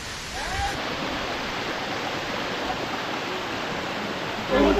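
A waterfall beside a small temple on a scenic trail makes a steady, close rushing roar that fills the whole stretch without a break.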